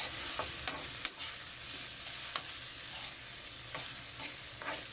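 Tofu for ginisang toge being stirred in oil in a pan, with a soft continuous sizzle punctuated by sharp scraping clicks of the utensil against the pan at irregular intervals; no talking.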